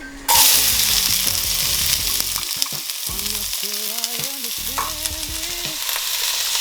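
Onions hitting hot desi ghee in a pan for masala beans set off a loud, steady sizzle and crackle that holds from start to finish, with stirring scrapes running underneath.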